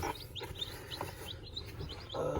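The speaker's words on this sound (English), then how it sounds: "we got these 4 chicks right here. They just come out of the incubator this morning." Four newly hatched chicks, just out of the incubator, chirp in a brooder setting: high, thin peeping calls repeat in quick, irregular succession at close range, with no talking.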